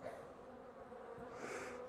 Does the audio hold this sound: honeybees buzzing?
yes